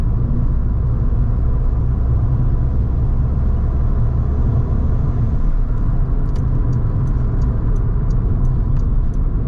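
A Rover Streetwise 2.0 turbo diesel car cruising in fourth gear at about 40 mph, heard from inside as a constant loud low engine and road rumble, with faint ticking clicks near the end.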